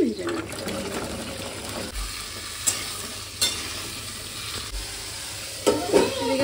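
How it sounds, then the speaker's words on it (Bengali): Potato and pointed gourd pieces fry in a pan, a moderate sizzle with a few sharp clinks and stirring knocks, and a voice speaking briefly near the start and end. "এবারে আলু পটলটা ভেজে নেব"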